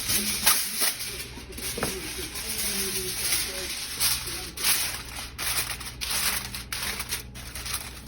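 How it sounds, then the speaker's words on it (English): Aluminum foil crinkles and crumples in repeated bursts as it is pressed over a roasted chicken before going into the oven, close and fairly loud, with a person talking intermittently. "I'm going to cover the top with aluminum foil."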